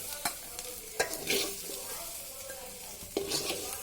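A capsicum poriyal stir-fry sizzles in a pan while a spoon scrapes and stirs, giving a soft, steady frying hiss broken by several sharp clinks and scrapes, with no talking.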